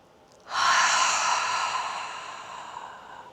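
One long, soft exhale through the mouth during a seated yoga cleansing breath, close and steady, fading gradually over about three seconds with no talk.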